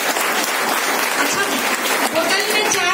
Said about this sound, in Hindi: जोरदार ताली आप लोगों की